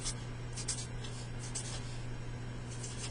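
A pen scratches steadily while writing out the molecule name NADPH, soft strokes in short bursts over a constant low hum.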